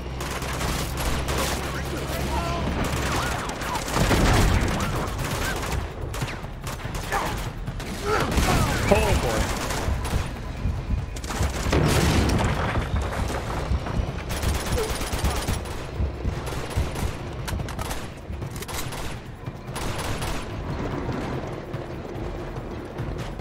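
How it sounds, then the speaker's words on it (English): Gunfire and explosions from an RPG firefight in Uncharted 2: Among Thieves, a dense, continuous barrage of shots and blasts with heavier bursts throughout, mixed with voices talking over the action. "just planning on shooting us with an RPG just like that, too"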